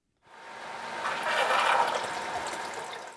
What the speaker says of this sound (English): Drain the tank until you hear the famous Lomo burp.